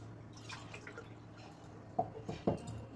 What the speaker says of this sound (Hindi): 1 गिलास पानी लिया है मैंने और इसको पानी को डाल देंगे।